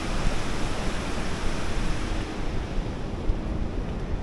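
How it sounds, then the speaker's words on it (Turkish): Rain-swollen Gazi Paşa stream rushes in a steady, broad roar close by, mixed with wind buffeting the microphone. "Yağmur sularından nasıl da artmış su bak."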